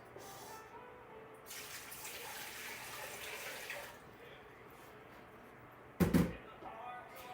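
Water runs into a pot for a stovetop simmer pot in a home kitchen. A few seconds of gushing flow are followed by quiet, then a short, louder splash.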